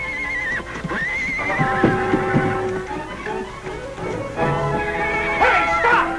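Horses whinny and neigh loudly several times over a background of clip-clopping hooves, with a shrill whinny near the end, as horse thieves make off with the animals in a 1954 Western.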